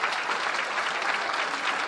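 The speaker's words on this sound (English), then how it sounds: "A loud round of applause and a new nameplate for San Diego Unified Superintendent Fabi Bagula." A crowd greets San Diego Unified's newly named superintendent with a loud, steady round of applause, dense clapping filling the room at even strength throughout.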